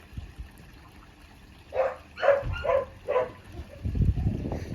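Four short barks from a dog in quick succession, moderately near, followed by a soft trickle of running water.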